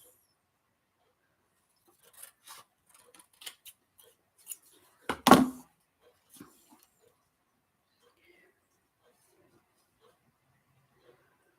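Scissors snip paper from old mail in a few quiet, scattered cuts, with one sharper, louder snip near the middle, set against near-silence.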